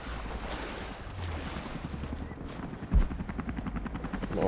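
Helicopter in the Rise of the Tomb Raider video game, a steady low rotor drone with rhythmic chopping pulses that grow more distinct toward the end, mixed with wind-like noise and a brief thump near the middle.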